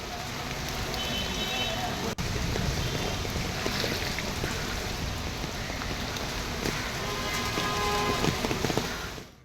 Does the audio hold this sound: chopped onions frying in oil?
no